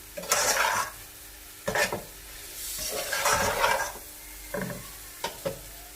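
Boiled rice being stirred into fried vegetables and egg in a pan for veg fried rice: several separate bursts of scraping and sizzle from a spatula, with quieter pauses between strokes and no talking.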